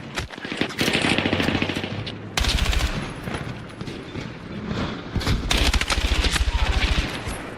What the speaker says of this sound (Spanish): escuchad el sonido del arma al disparar.